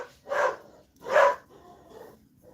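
A dog barks twice, fairly close and loud, with a softer, fainter bark or grunt trailing after in an otherwise quiet room.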